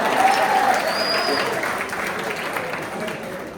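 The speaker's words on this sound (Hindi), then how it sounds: "तालियां बजाओ।" Audience applause at a college drama event, a steady wash of many hands clapping together at moderate loudness that holds for several seconds and slowly thins out.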